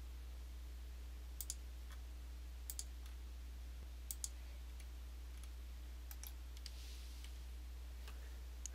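Faint, sparse computer mouse clicks, single and doubled, spaced irregularly over a low steady hum while floor areas are drawn in Vertex BD architectural software.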